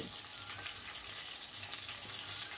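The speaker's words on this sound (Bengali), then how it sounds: "ওলট পালট করে ভালো করে ভেজে নিতে হবে।" Fish pieces frying in oil in a pan while being turned, giving a soft, steady sizzle that carries on evenly from start to finish without voices.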